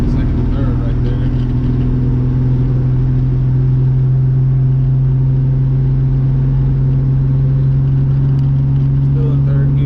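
A car engine under steady load while driving in third gear, a loud, constant low rumble heard from inside with no clear break.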